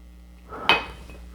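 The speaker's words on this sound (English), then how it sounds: "I'm going to put my little ice ball in there." A single hard clink as a large ice ball drops into a glass for an Old Fashioned cocktail, one short bright knock against a faint background hum.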